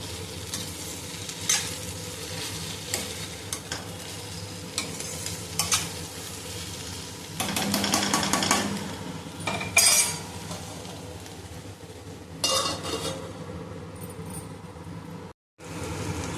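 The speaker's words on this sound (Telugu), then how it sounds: "ఇప్పుడు ఇందులోనే కట్ చేసి పెట్టుకున్న ములక్కాడ ముక్కలు కూడా వేసుకుందాం." Moringa drumstick pieces and onions fry in a pan for a quick vegetable curry, a steady close sizzle punctuated by a spoon stirring, scraping and clinking against the pan, without any talking.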